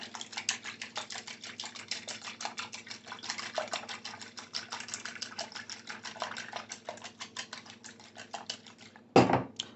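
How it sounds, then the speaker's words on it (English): Eggs whisked in a bowl for breakfast tortillas, fast, steady rhythmic tapping and clicking of a whisk against the bowl, continuous and close, ending with a brief louder knock. "we're going to whisk this."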